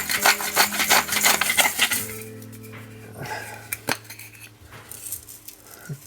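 A hand grinder crunches salt over flour for tarte flambée dough in a kitchen, a quick run of close, rhythmic gritty clicks that gives way to a few scattered taps and clinks.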